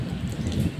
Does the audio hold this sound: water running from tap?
no